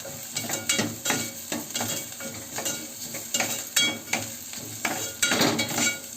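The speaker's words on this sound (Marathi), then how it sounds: "खोबरं आणि थोडे मसाले पण आपण तेलामध्ये टाकणार आहोत" Grated coconut and spices fry in oil for a tender jackfruit bhaji, a close sizzle broken by rhythmic stirring scrapes and occasional utensil taps against the pan.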